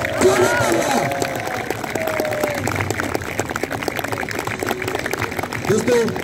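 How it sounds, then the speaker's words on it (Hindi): Audience at a police athletics meet claps for an unarmed combat demonstration, a scattered, steady patter of applause under someone talking loudly over a microphone. "तालियां रुकनी नहीं चाहिए इन लोगों के लिए।"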